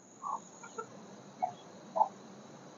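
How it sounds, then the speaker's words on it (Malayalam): Backyard chickens being fed rice cluck softly in a quiet setting, several brief, faint, scattered clucks spaced apart over a low background hum. "നമ്മുടെ കോഴികൾക്ക് അരി കൊടുക്കുകയാണ് കേട്ടോ."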